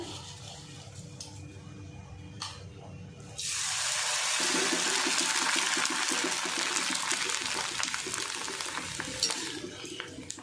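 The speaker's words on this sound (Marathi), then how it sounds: "आता आपण तळायला सुरुवात करूया." Small sabudana rings dropped into hot oil: quiet kitchen noise, then a sudden loud, bubbling sizzle that surges and holds steady as they fry, with faint voice underneath.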